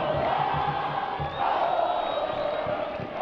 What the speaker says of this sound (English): Great cheering in the stands.